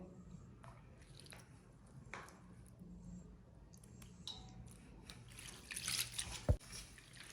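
Sea asparagus is rinsed by hand in a basin of water with soft splashes, drips and wet squishing, mostly quiet and close, rising to a louder burst of sloshing near the end.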